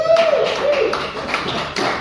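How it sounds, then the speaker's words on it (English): A stand-up comedy audience gives a brief round of applause, opening with a whoop: a short burst of scattered clapping that fades within two seconds. "Does that deserve a round of applause?"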